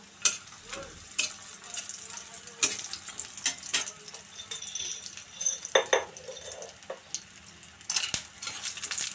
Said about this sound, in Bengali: এইবার তাতে বড়ি দিলাম আগে বড়িগুলো ভেজে নেব